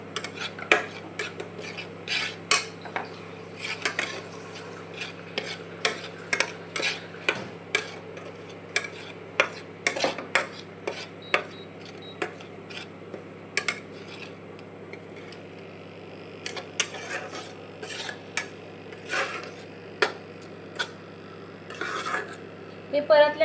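Potato slices stirred and sautéed in a pan, with salt added until they turn reddish: a spatula repeatedly scrapes and clinks against the metal in irregular taps over a steady low frying hiss, close and moderately quiet.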